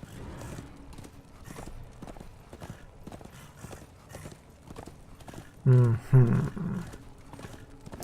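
Steady clip-clop of horse hooves trotting in the video game Darksiders II, with a horse's whinny breaking in near the end.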